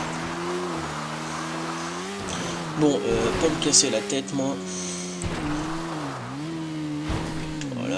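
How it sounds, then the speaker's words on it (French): Motorcycle engine in the game GTA V, a steady droning tone that rises and falls with throttle changes as someone talks over it throughout. "donc c'est parti, on est parti avec la moto."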